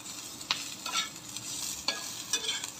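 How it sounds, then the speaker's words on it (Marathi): Green chilies, garlic, onion and peanuts roasting together in a pan, a steady close sizzle with a few sharp stirring scrapes, no voices. "सगळं एकत्र भाजून घ्यायचं."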